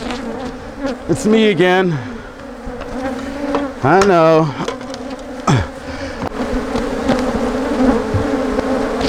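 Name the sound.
angry honeybees buzzing at an opened hive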